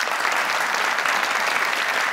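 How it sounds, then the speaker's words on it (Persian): Steady, loud applause from a studio audience on a family game show, dense even clapping filling the whole stretch with no talk over it. "دوستا خوب تشویقشان کنید."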